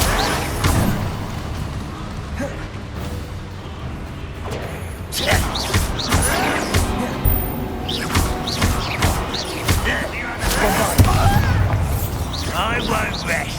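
Confringo blasting-curse explosions in Hogwarts Legacy: repeated booming thuds and fiery bursts scattered through the fight, mixed with spell effects and a voice calling out casts.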